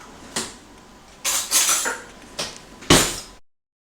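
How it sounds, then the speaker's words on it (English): Metal utensil clattering against a bowl while semolina and flour are mixed into dough, a few separate knocks and scrapes with short gaps between them, close and moderately loud. "You want to mix up the semolina with the flour so that it's completely mixed in together."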